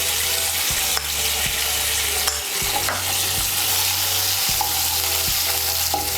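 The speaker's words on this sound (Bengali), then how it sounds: "টমেটো কুচিটা দিয়ে একটু নাড়াচাড়া করে নিয়ে এর মধ্যে আমি দিয়ে দেবো আদা বাটা।" Chopped tomato and ginger paste fry in oil with a constant bright sizzle, while a utensil stirs and scrapes the pan in a few sharp knocks and scuffs.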